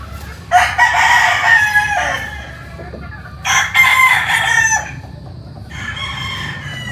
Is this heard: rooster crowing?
yes